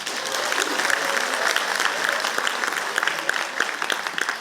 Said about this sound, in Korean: 큰 박수와 함께 시작하겠습니다.